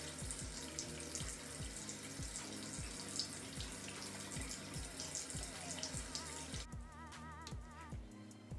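Hot water from a tap pours steadily into a sink, a soft continuous splashing heard up close, with a brief change in tone near the end.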